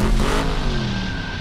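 Race car engines roar in a film trailer, a loud, close burst of revving with a rising tone and a brief tire-squeal-like edge, heard alone for a moment.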